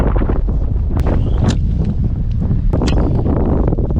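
Strong wind buffets the microphone on a kayak out fishing on rough water on a rainy day, a loud continuous roar with a few sharp knocks and splashes mixed in.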